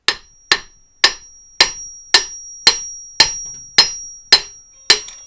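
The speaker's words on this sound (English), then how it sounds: "I'm just tapping the top with another hammer." A hammer taps aluminum pistons into a Toyota MR2 AW11 engine, ten sharp, ringing knocks at a steady rhythm about half a second apart, loud and close with nothing else heard.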